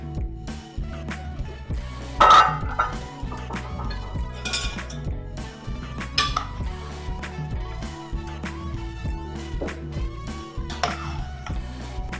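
A utensil clinks and scrapes against a pot while black coconut rice is served, with a few louder clanks over steady background music.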